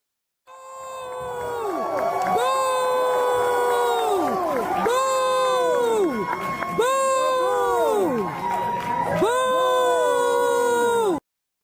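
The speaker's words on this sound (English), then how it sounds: "They're booing Brandon Johnson." A large crowd at a Congressional Black Caucus event loudly boos Brandon Johnson in repeated long, falling waves of many voices that fill the space without pause.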